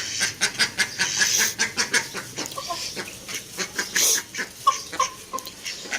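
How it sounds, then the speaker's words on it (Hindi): Ducks and desi chickens cluck and quack in short bursts close by at feeding time, a busy irregular flurry of poultry calls throughout. "अपनी बतखों और देसी मुर्गियों को भी चारा डाल दिया है।"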